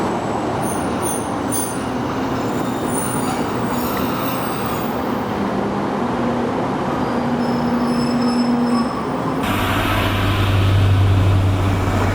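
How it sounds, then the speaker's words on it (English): An East Midlands Railway train rolls into Warrington West station with loud, steady rumbling and high wheel squeals, then the noise shifts abruptly to a heavier low drone near the end. "that very noisy East Midlands Railway train just pulls in here"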